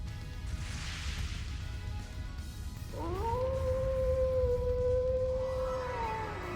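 A lone wolf howl in the video game Trails Into Reverie rises after a few seconds of low rumbling ambience, then holds a long, clear, drawn-out tone that slowly tapers at the end.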